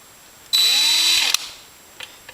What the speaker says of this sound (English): And drill this